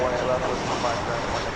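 Airplane at DFW Airport on a Saturday morning, a broad steady engine roar filling the short stretch at moderate distance.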